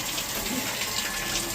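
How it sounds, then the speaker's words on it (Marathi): Tap water runs steadily to fill containers for the household supply, a close, continuous gushing hiss that holds at an even level throughout with no talking. "तर पाणी आलंय, पाणी भरायचं काम चालू आहे."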